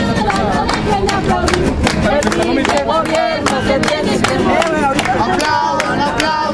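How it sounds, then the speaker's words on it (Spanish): A dense protest crowd against an energy reform claps continuously in rhythm, loud and close, while many voices chant and shout over the clapping. "Aplaudan, aplaudan, no dejen de aplaudir."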